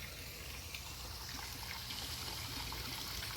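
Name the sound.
garden creek flowing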